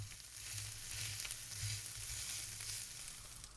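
Minced beef browning in a hot pan gives a loud, continuous sizzle and crackle, close and unbroken, with faint scraping as it is broken up.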